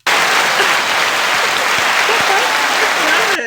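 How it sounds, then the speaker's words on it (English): Applause sound effect played back from a phone: a dense, even burst of crowd clapping filling the whole stretch at steady loudness, with faint voices underneath. "It was an applause."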